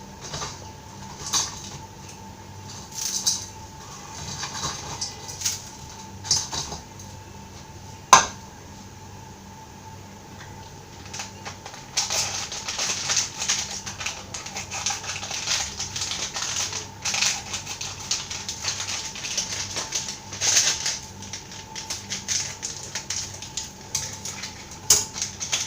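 Maggi noodle blocks are snapped and crushed by hand into a pot, giving repeated dry crackling snaps and crunches, sparse at first and then dense and continuous, with one sharp clink of metal.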